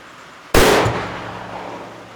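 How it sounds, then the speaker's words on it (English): A single sharp, loud gunshot from a break-open Encore rifle with a 26-inch barrel firing a heavy-bullet straight-wall cartridge, followed by a decaying echo that fades over about a second and a half outdoors. "We are running the Encore, the 26-inch barrel, so it should burn all the powder efficiently."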